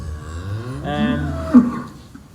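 Several cattle low inside a farm shed where one cow is calving, with a long, loud harmonic moo swelling near the middle over softer bovine sounds, no talking.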